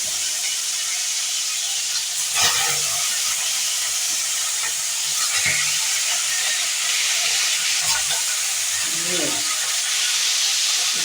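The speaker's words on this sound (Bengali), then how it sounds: "আমার মাছটা দেখো দিয়ে দিয়েছি, এগুলো ভাজা হচ্ছে।" Fish frying in hot oil in a frying pan gives a steady, close sizzling hiss throughout, with occasional soft clatters and brief voice sounds over it.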